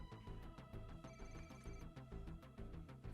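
A phone rings in a Telltale video game, a steady repeating electronic ring pattern with short regular pulses, moderately loud over quiet background.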